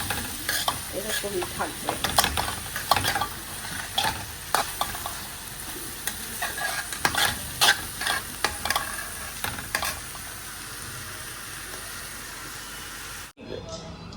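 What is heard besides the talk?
panch phoron spices frying in a pan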